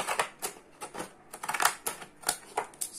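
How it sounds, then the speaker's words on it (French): Pinking scissors notch the edge of paper for a handmade Mother's Day card, giving a run of about eight crisp, close snips in an uneven rhythm. "on va prendre les ciseaux crantés à nouveau"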